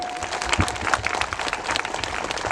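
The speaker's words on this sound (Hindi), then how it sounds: "जोरदार तालियां बजा दीजिए" A gathering welcomes a visiting Jesuit priest from the Andamans with hearty applause, a brief, continuous patter of many hands clapping at moderate distance.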